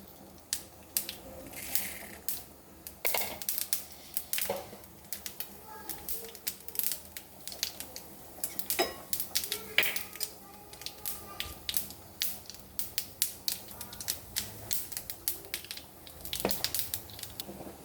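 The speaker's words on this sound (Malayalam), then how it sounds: "കടുക് പൊട്ടിക്കഴിഞ്ഞിട്ടുണ്ട്." Mustard seeds popping and spluttering in hot oil in a pan while sambar is prepared, a steady run of sharp, irregular crackles and pops close by, with no talk over them.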